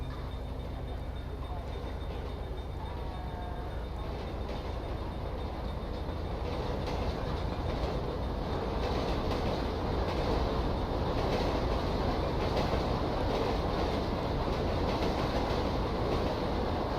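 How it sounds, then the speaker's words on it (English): Train in a Los Santos emergency-services game rolling past with a steady rumbling clatter of wheels on rails, fairly quiet and continuous throughout, building slightly toward the end. "All police waiting for trains again."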